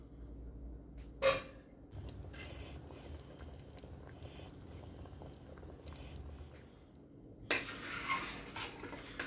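A metal spoon skimming fat off a pot of braised goat ragù, with a couple of distinct clinks of utensil against the pot over a low, steady kitchen background.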